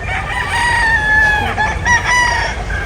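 Chickens cluck and a rooster crows loudly and close by, with overlapping calls from several birds.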